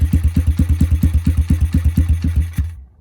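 Apollo DBX18 dirt bike engine running rough on full choke, a loud, close, steady chugging idle with regular thumping pulses for about two and a half seconds before cutting out abruptly.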